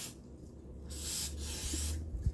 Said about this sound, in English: before I get started, I'm going to lubricate with WD-40 in the bore.